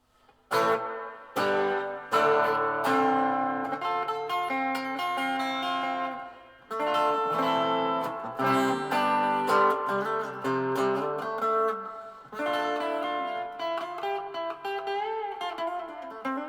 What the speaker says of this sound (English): And then a reverb.